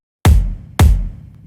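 A huge, booming kick drum from an R&B track with EDM-style drums, struck twice in isolation, each hit loud with a long airy decay.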